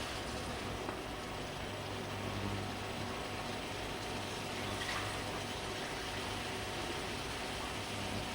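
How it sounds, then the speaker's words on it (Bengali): Water pours steadily into a bowl to rinse out ground spices while cooking pabda fish curry, a continuous splashing, gurgling flow that stays fairly even throughout. "আর একটু পানি নেবো ধোয়ার জন্য।"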